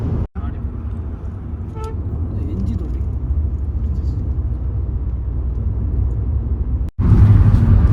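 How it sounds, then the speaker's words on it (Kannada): A Toyota Fortuner drives past on a road with a steady low rumble of engine and traffic, and a short horn toot near the start, while people talk nearby. "ನೋಡಿ ನಮ್ಮ ಇನ್ನೊಂದು ಗಾಡಿ ಹೋಗ್ತಾ ಇದೆ ಫಾರ್ಚುನರು"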